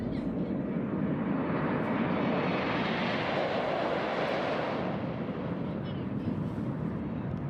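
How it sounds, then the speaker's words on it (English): Fixed-wing airliner passing at Charlotte Douglas International Airport, a loud sustained broadband roar of jet engines that holds steady, swells slightly in the middle and eases off toward the end, with wind buffeting the microphone. "Our last aircraft, here we go."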